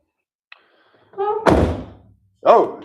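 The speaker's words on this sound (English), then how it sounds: "So we'll close the trunk lid up." A car's trunk lid shuts with a solid thunk about midway through, preceded by a brief click and a short rustle and followed by a second dull impact near the end, with a voice speaking around it.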